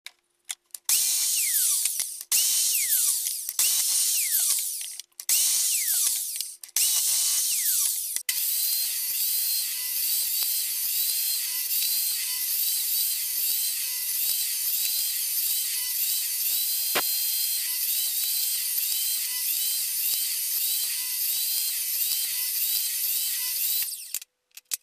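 A power tool cuts scraps of beech, pine, oak, teak and elm to length, giving a loud, steady, close-up mechanical whine broken by a few short pauses at the start and then running without a break.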